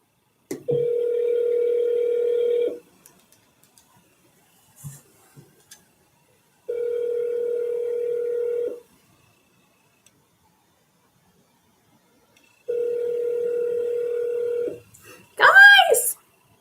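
A telephone call rings out: three steady ringback tones, each about two seconds long, separated by pauses of silence, followed by a brief burst of other sound at the end.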